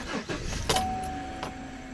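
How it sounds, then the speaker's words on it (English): A 2014 Chevrolet Silverado pickup with a 4.3L V6 and an inline fuel pressure switch fault starts up close by: a short crank bursts into the engine catching, then it settles into a steady idle hum. "So we're going to start the truck now."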